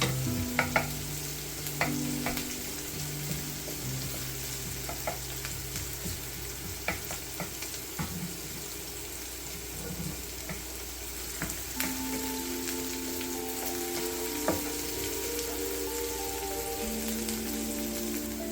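Shallots fry in a pan as the base for Vietnamese crab noodle soup, giving a steady close sizzle with scattered pops and stirring scrapes throughout.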